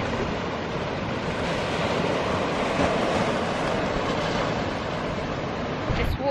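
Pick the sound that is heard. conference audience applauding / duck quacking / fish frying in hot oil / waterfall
waterfall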